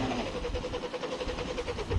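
Electric motor of a Pro Boat Blackjack 42 RC boat starting up, a rough, throbbing, engine-like rumble with fast pulsing, steady and fairly loud.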